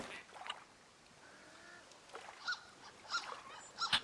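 A toy duck in the Firewatch video game: a few faint, brief high squeaks in a cluster near the end, over quiet ambient background with soft water-like noise.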